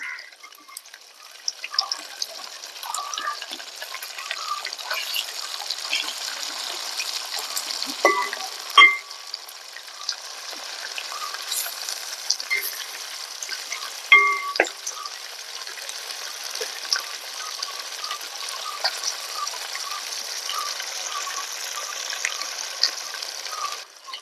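Chicken pieces frying in hot oil for a green chilli chicken fry, a steady soft sizzle with scattered pops and crackles, plus occasional clinks and scraping as the pieces are turned.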